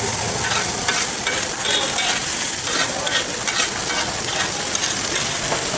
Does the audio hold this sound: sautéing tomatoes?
yes